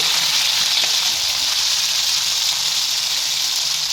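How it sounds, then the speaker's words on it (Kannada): Onion, tomato and coriander leaves sizzle steadily in hot oil in a pan, a dense, continuous frying hiss that stays loud and even throughout with no talking. "ಈಗ ಇದನ್ನು ಚೆನ್ನಾಗಿ ಫ್ರೈ ಮಾಡ್ಕೊಳ್ಳೋಣ"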